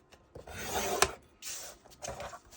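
Paper being scored with a tool at a half-inch mark on a card for a farmhouse recipe album, heard as a few short, close rasping strokes with brief pauses between them.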